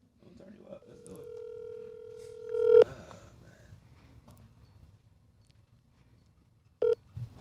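A telephone dials a call with a steady touch-tone beep lasting about two seconds. After a pause, a short, sharp burst of dialing tones follows over a faint background hum.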